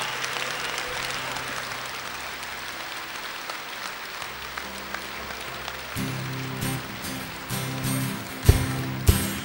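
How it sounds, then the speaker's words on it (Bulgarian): Church congregation clapping hands in praise during worship, a steady crowd patter that swells louder partway through, with a few sharper claps near the end. "with clapping your hands"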